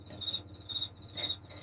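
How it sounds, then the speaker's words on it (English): Cricket chirp sound effect triggered from an X-keys button, a steady high trill pulsing in three bursts over a low background hum, faint and alone with no talk. "I thought you were reaching for the cricket button."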